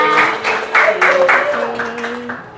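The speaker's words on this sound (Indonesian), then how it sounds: "Oke, tepuk tangan sekali lagi." A school math class claps together at the end of a lesson, a short burst of fairly loud, rhythmic handclaps with a voice speaking over it.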